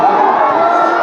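A large, dense crowd at a film promotion event for the movie Welcome in Sitamarhi, a loud, continuous wash of many voices shouting and cheering for one second.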